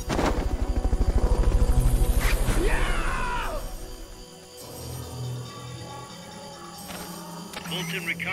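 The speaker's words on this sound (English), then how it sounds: "Fulton recovery subject confirmed onboard helicopter." A helicopter in the Metal Gear Solid Peace Walker video game makes a rhythmic rotor thump that is strong at first and then fades to a softer drone, with in-game voices and effects layered over it.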